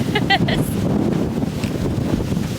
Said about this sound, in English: It is in fact very windy in Las Vegas